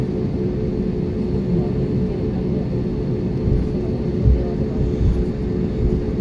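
An airplane engine rumbles steadily at night before takeoff, a constant low droning roar heard from inside the cabin, with a faint hum and small bumps but no speech.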